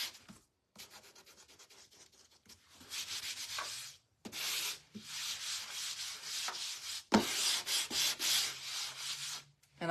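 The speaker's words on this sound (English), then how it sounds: "I'm going to have to sand on the edges." Hand sanding along the raised edges of a wooden bathroom sign with a faux frame, repeated scratchy rubbing strokes in bursts with brief pauses, close and moderately loud.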